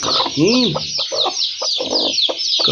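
A hen clucks in short bursts close by, with a steady high-pitched chirping of birds running underneath throughout.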